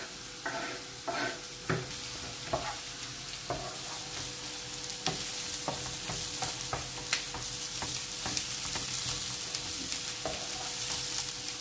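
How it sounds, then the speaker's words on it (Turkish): Peppers sauté in a hot pan after a light pre-frying, a steady close sizzle broken by repeated scraping stirs and clatter, no talking. "böyle hafif soteledikten sonra biberlerimizi de koyuyorum"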